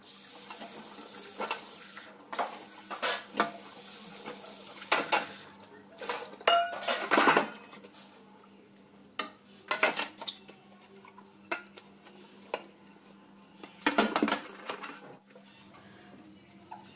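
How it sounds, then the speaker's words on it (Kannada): Dishes, pots and pans being washed in a home kitchen sink after breakfast: scattered metallic clinks, clatters and scraping of steel utensils, irregular and close, with quiet gaps between knocks. "ಈ ದೊಡ್ಡ ಪಾತ್ರೆ ತೊಳೆಯೋದು ಇದೆಲ್ಲರೂ ಮಾಡ್ತಾರೆ ಅನ್ಕೊತೀನಿ"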